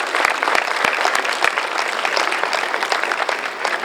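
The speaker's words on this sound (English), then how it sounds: "class of 2024, I would like you to give yourself a round of applause." Dense, steady applause from a graduation ceremony audience, a close, continuous wash of many hands clapping at once with no voices over it.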